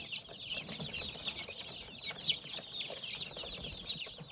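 Constant high-pitched peeping from many newly hatched chicks close by, fresh from a Cimuka CT180SH incubator, a dense chirping chorus with soft rustling underneath.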